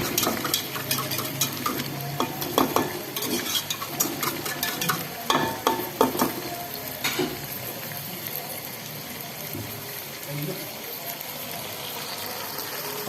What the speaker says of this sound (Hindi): अब हम इसको मैश करेंगे।